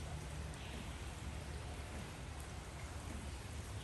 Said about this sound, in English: you can hear right now we're getting rain.